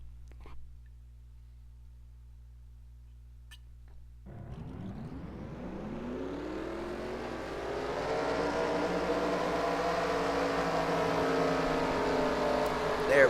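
Race car engines starting up in a NASCAR racing video game at Homestead-Miami: after a quiet stretch a pack of engines fires up together and holds a rising, building roar to the end.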